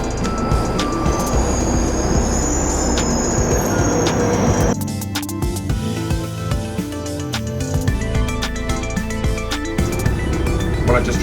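A train runs on rails near the Camden junction in London, a loud steady rumble with metallic screeches and clattering that shift partway through, continuous and close throughout.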